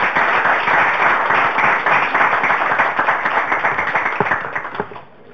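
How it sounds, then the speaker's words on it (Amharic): A studio audience at a students' quiz show applauds in a steady, loud burst of clapping that fades out at the end. "እስኪ ለሁለቱም አንድ ጊዜ ጭብጨባችሁ።"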